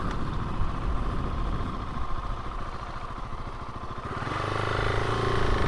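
A KTM 701 Enduro motorcycle engine rumbles steadily as it rides through a neighborhood, loud and close, with the tone shifting and swelling near the end as the rider changes speed.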